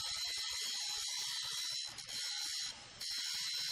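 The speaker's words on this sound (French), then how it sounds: "Remarquez que l'opérateur est en train de meuler sur la bonne surface" Angle grinder fitted with a 9 by 1/4 inch type 27 grinding wheel grinding a surface, giving a steady high-pitched whine with a brief dip in load partway through and no talk.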